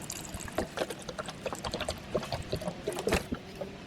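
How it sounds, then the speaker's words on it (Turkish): Water poured from a container into a car's coolant reservoir during thermostat and antifreeze replacement, a faint, uneven splashing and gurgling trickle that comes in small bursts. "Şimdi ise haznemizi yeteri kadar suyla dolduruyoruz."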